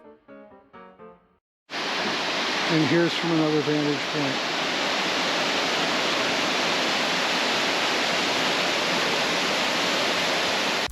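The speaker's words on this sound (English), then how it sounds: "Here is Bridal Creek as it makes its way north to the Columbia River after the falls." Bridal Creek rushes below the falls on its way north toward the Columbia River, a loud, steady broadband roar of flowing water that starts abruptly after a brief spoken line; a voice speaks over it.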